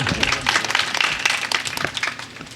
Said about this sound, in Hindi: तालियां बजाते रहे बंधुओं।